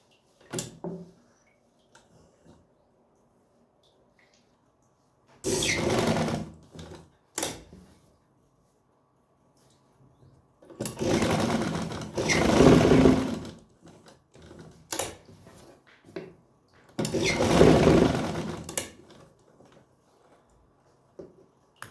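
A sewing machine stitches a salwar in several separate short bursts of close mechanical whirring, separated by quiet pauses and a few small clicks and handling knocks.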